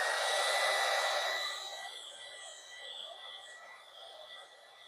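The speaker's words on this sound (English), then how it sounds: "you're holding the heat gun in the same position too long, or you have the heat too high" A heat gun blows hot air onto smart film during a busbar installation, a loud steady hiss at first that drops to a quieter, lower rush after a couple of seconds and carries on to the end.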